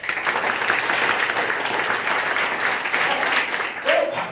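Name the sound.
audience applauding loudly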